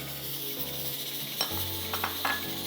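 Two small chopped onions sizzle quietly as they are stirred into a pot, a soft steady frying hiss with a few scrapes and clinks of a spoon against the metal near the end.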